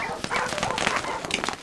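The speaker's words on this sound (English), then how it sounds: "But it's not very good when being chased by neighborhood dogs." Neighborhood dogs bark and yip in a dense, continuous burst, with sharp repeated calls layered over a noisy, busy background throughout.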